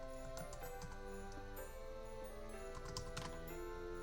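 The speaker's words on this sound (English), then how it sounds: "I'm just going to type in" Soft, quick keystrokes tap on a computer keyboard as a font name is typed into a search box, faint and close with a steady low background hum and no voices.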